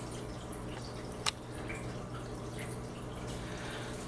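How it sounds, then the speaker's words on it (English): An ATI sponge filter in a home aquarium tank bubbles steadily, its constant airy trickle running throughout, broken by one brief sharp splash near the middle, with no talking. "I like the size of the bubbles coming out. There's a lot of air bubbles."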